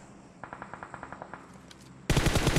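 Automatic gunfire in the PUBG Mobile video game, a rapid rhythmic burst of about a dozen shots at moderate distance, then an abrupt, much louder and denser volley up close, with no talk.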